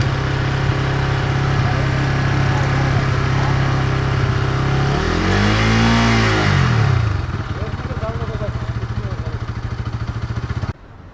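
A Bajaj NS200 motorcycle engine runs steadily at idle through a coolant drain, with a brief rev swelling near the middle before it settles back to a lower, even idle and cuts off at the end.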